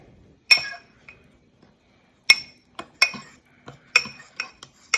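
A spoon clinks against a mug while milk and oil are mixed for a blueberry mug cake; close, bright metallic taps arrive in an irregular series, some bunched together, with quiet gaps between.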